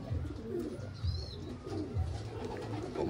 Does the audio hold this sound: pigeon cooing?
yes